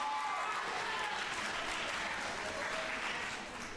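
Steady, dense applause from a high school poetry slam audience fills the room, even and sustained from start to finish with a slight easing near the end.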